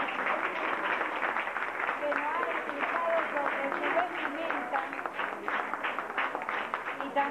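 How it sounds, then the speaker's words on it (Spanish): A classroom group of students applauds: sustained dense clapping from many hands at moderate loudness throughout, with crowd noise and voices mixed underneath. "A este grupo le damos un aplauso fuerte."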